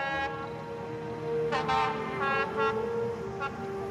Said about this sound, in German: Auf einer der wenigen verbliebenen Zugstrecken Albaniens.